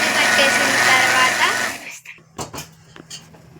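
An electric mixer grinder whirs loudly through semolina mixed with oil for a banana cake batter, then cuts off abruptly, followed by a few quiet clinks and handling noises.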